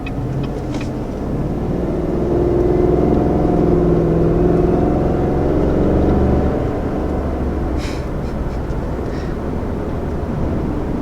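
A 2020 Cadillac Escalade SUV accelerates with a steady, loud engine drone that swells slightly and holds, heard close and continuous without talk.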